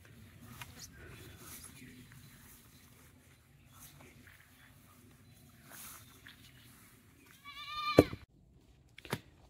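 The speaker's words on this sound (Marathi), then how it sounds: "बारकासा सगळे बकरे तिकडे वरती गेलेत" Goats roaming up a hillside let out one clear, wavering bleat near the end, after quiet rustling and faint background movement, with a short sharper sound just after.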